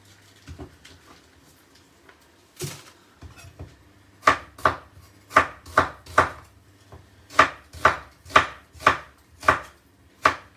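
Half an onion being chopped with a knife on a board: a few scattered cuts, then a steady run of about a dozen sharp, close knocks in an even rhythm, with no talking.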